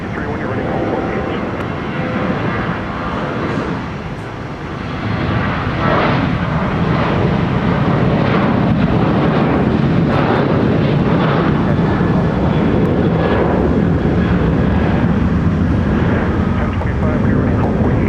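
A oneworld airliner's jet engines spool up and roar during its takeoff roll at Minneapolis–St. Paul Airport, a loud sustained rumble that swells and holds, with radio chatter over it.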